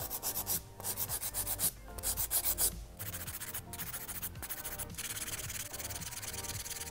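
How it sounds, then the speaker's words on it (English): Polygel artificial nails from a cheap kit being filed, giving steady rhythmic rasping strokes up close, quick back-and-forth scrubbing that runs continuously with brief pauses and no talking. "Now I'm moving on to filing."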